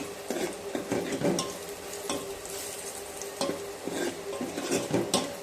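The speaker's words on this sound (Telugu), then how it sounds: "ఇలా బాగా వేగాలి ఆనియన్" Onion fries in a turmeric tempering for tomato charu, sizzling steadily while a spoon scrapes and stirs it around the pan in repeated close, clattering strokes.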